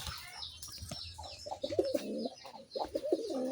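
Rajgolla pigeons coo in low, rolling, repeated calls, fairly close, with faint chirps and background noise behind them.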